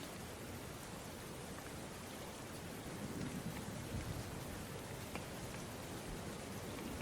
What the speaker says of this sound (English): the rain is so loud I can hardly hear you.